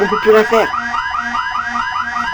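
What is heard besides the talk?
spaceship main alarm in Elite Dangerous video game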